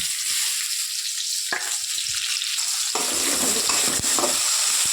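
Chopped tomato and curry leaves frying in a pan for a raw banana curry, with a continuous loud sizzle that swells into a busier crackle partway through, alone with no voices.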